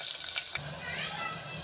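Onion dropped into hot oil in a clay pot sizzles steadily after an initial clatter, a close, continuous frying hiss mixed with faint watery noise, with no talking over it.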